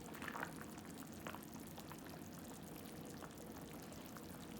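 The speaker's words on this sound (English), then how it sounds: "And we just letting this soup cook up" Beef soup with potatoes, corn, carrots, okra and rosemary simmering in a pot, a faint steady bubbling hiss with a few soft pops and gurgles, heard alone without talk.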